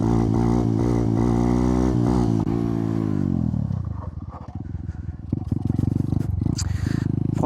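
A YCF 125 pit bike engine screams at high, steady revs during a wheelie for a few seconds, then drops off sharply into a lower, rough, popping putter. Close and loud throughout, with no talking.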